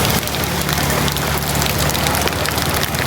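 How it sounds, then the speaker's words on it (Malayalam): Steady rain pours down throughout, a dense, even hiss of drops striking surfaces nearby with no break or change. "മഴ പെയ്ത്"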